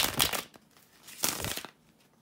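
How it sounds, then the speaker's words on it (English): Tarot cards being shuffled in two short bursts of papery riffling and crinkling, close and fairly quiet, with a brief pause between them. "bear with me a second, guys, to shuffle the tarot cards."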